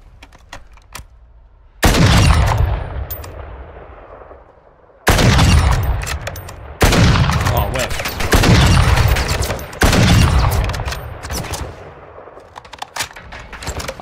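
Gunfire in Call of Duty DMZ: loud, sharp bursts of rapid shots break in after a quiet opening and keep recurring in clusters, with brief lulls and ringing tails between them.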